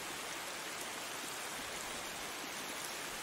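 Steady rain falling around a tree, a dense, even hiss of drops filling the whole clip at constant loudness with no voices.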